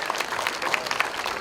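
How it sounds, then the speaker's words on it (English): A short burst of scattered applause for the umpires at a senior women's football league event, moderately quiet, with individual claps audible in an uneven patter. "So give a round of applause to the umpires."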